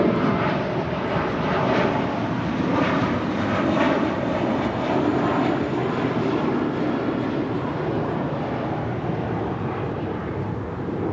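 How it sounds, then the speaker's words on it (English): An American Airlines Airbus A321 departs Los Angeles International Airport for Dallas Fort Worth, its engines giving a loud, steady broadband roar that holds for the whole stretch. "That is American Airlines 2012. Departing to Dallas Fort Worth on an A321."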